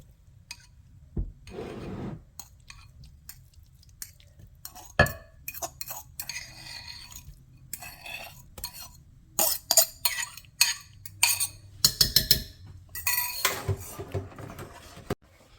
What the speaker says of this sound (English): I'm going to go ahead and add it back into my pot